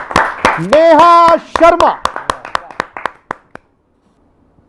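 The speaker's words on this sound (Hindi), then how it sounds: "जोरदार ताली के साथ" Audience applause at a poetry gathering breaks out as a voice finishes announcing a name, then thins into scattered individual claps that taper off into silence.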